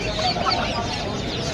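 Chickens cluck at a busy poultry market selling Brahma, Silkie and Aseel breeds, a brief burst of close, overlapping clucks and fowl calls with market bustle underneath.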